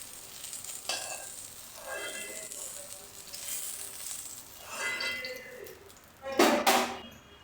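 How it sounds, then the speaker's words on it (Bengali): Chopped onion goes into hot oil left over from frying fish, giving a crackling sizzle that swells in bursts with stirring, loudest near the end. "ওই একই তেলে এবার দিলাম পেঁয়াজ কুচি।"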